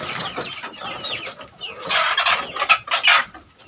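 Free-range village chickens clucking and squawking nearby, a soft scattered patch at first, then a louder burst of overlapping hen calls toward the end.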